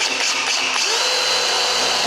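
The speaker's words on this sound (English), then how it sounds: "I've got a 3mm drill bit. I'm just gonna do a hole" A power drill with a 3mm bit bores a hole in a door's screw hole: a loud, steady whirring drone that holds at a constant pitch for about two seconds, close up.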